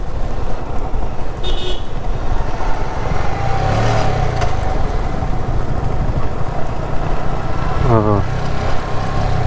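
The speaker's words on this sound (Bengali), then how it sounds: "এই যে অত একটা গাড়ি দেখা গেলো অনেক পরে মোটর সাইকেল" A motorcycle travels the mountain road from Toma Tungi toward Tazing Dong near Thanchi, its engine a steady droning rush with short horn beeps near the start and end, while a person talks over it.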